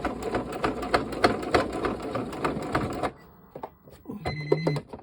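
A sewing machine stitches fabric in a fast, steady run of close mechanical clatter for about three seconds, then stops and is followed by a few softer clicks and a short hum.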